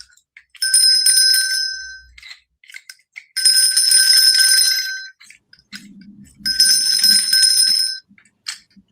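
A vintage bell rings with its clapper in three separate bright, ringing bursts, each lasting about one to two seconds with brief pauses between, close and loud.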